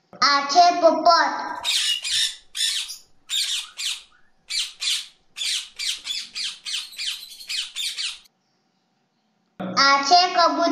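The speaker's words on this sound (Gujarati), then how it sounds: "આ છે પોપટ." A parrot squawks in a run of about a dozen loud, harsh, evenly spaced calls, close by and clear, with a voice talking just before and after the calls.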